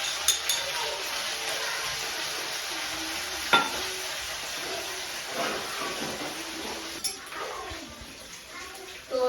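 A crushed paste of green chilli, coriander, cumin and ginger fries in hot oil with a continuous hissing sizzle, punctuated by occasional scrapes and knocks of a spoon against the pan.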